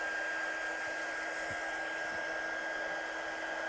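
A hair dryer blows steadily close by while drying watercolour on stencilled card, a constant whirring hiss with a faint motor whine and no pauses.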